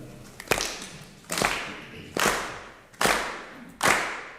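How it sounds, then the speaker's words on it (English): A group at a Sufi gathering claps in unison, five loud, sharp, evenly spaced claps roughly 0.8 seconds apart, each ringing briefly in the room. "if we clap in rhythm, let's do that."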